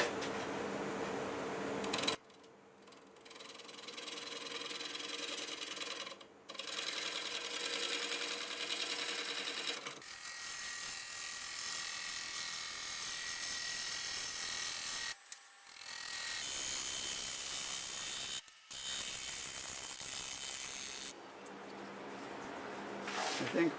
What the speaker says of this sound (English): now I'm going to use a 1/2 inch bowl gouge to clean this up